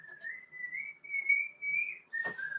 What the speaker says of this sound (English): She's in the garden whistling like a little old man.